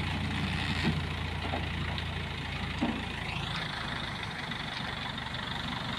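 A crane's heavy diesel engine runs steadily while lifting and turning a tractor at a railway station work site, a loud, constant low rumble with a faint rising whine partway through.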